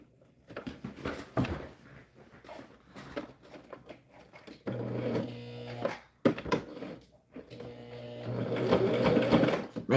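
A sewing machine stitches organza ribbon onto a tutu, running in bursts: short whirring runs early, then longer steady stitching passes later, fairly close and moderately loud with brief pauses between.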